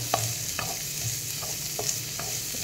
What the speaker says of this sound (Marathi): आता त्याच्यामध्ये आपण हे चिरलेलं गाजर घालूया